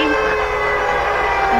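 An air raid siren sounds in a WWII video game, a steady, loud wail that fills the whole short stretch, with faint game noise beneath.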